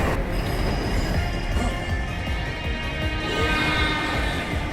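A train in the Chainsaw Man Reze movie rumbles past close by, wheels squealing with high metallic whines over a steady heavy roar.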